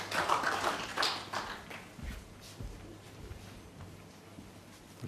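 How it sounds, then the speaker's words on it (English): Light ripple of applause from a snooker crowd at the World Championship, McGill v Murphy, after the frame ball is potted; soft scattered clapping that is fuller at first and then thins into sparse claps. "Little ripple of applause there as he potted frame ball."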